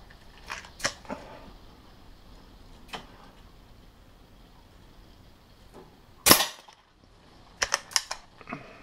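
Air gun firing pellets at a target 8 metres away, several sharp isolated cracks spread apart, one louder snap followed by a quick cluster of clicks, in a quiet setting.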